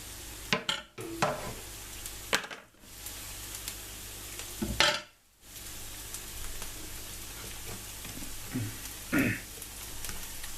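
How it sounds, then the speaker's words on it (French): Potato filling mixed with chopped coriander in a pan, giving a soft sizzle with several scraping, stirring strokes spaced through the stretch, close and moderately loud with no talking. "Hop, on mélange tout."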